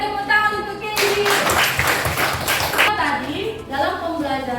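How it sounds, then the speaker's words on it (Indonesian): Classroom applause for a student during a coding and AI lesson, a burst of clapping from many children lasting about two seconds, framed by a teacher and kids talking before and after. "tepuk tangan untuk Kendi"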